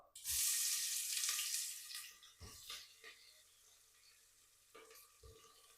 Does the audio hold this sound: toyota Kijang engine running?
no